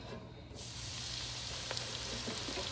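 Coconut-coated shrimp deep frying in hot oil, a steady, dense sizzle that swells after a quiet opening moment and holds on continuously, close and fairly loud.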